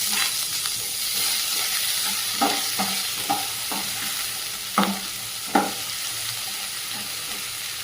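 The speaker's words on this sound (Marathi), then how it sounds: "त्यामध्ये मी हा अख्ख्या मुगाचा वापर करते तर ते व्यवस्थित आपण परतून घेणार आहोत" Whole moong beans are sautéed in a pan, with a continuous hissing sizzle and a run of spoon scrapes and taps at uneven intervals, heard close up with no talking.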